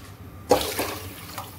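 Water poured into a pot of mashed masala with oil while making Punjabi rajma, a sudden splashing gush that starts partway through and keeps running steadily with no speech.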